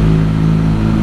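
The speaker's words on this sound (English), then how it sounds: "Going through a tunnel." A motorcycle rides through a tunnel on a UK south coast tour, its engine holding a steady, loud, low drone that fills the enclosed space for about a second, with no talking.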